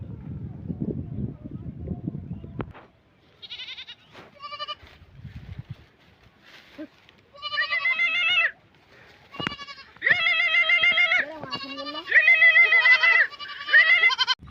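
Goats bleat repeatedly and loudly, nearby, in a series of wavering cries with short pauses between them, after a brief opening stretch of rough, low noise.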